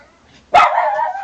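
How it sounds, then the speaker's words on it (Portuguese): A dog lets out a single loud, close bark that trails into a short whining yelp, after a quiet start with no talk. "Meus cachorros chegou gente."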